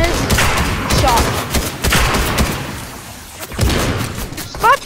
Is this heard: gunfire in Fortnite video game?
yes